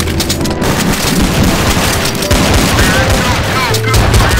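Dense, loud gunfire and a booming grenade blast in a Counter-Strike: Source Zombie Escape round on a Minecraft-themed map, with continuous rattling shots and rumbling explosions layered throughout and voices mixed in.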